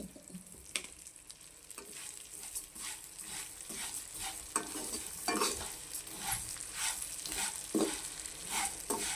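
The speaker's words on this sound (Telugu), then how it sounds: "ఇప్పుడు ఇదే నెయ్యిలో ఈ సేమియా వేపేసుకుందాము." Vermicelli fries in ghee in a pan, a steady close sizzle broken by repeated scraping stir strokes roughly every second, with no talk.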